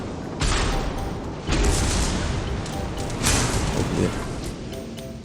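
Naval cannons fire in World of Warships: Legends, with three heavy, booming salvos at uneven intervals over a dense roar of battle noise.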